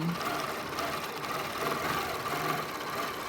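A quilting sewing machine fitted with a glide foot stitches along a quilt border, a steady, close mechanical whir with a fast rhythmic needle chatter that runs without a break, and no one speaks.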